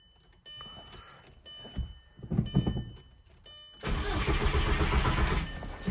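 A Mk4 Volkswagen engine cranks with a few short bursts and thunks, then catches and settles into a loud, steady running rumble close by, with no talk.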